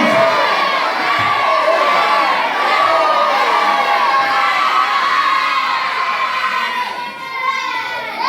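A church congregation screams amen together during a sermon, a loud, sustained crowd roar of many voices shouting at once that rises and falls slightly before tapering off.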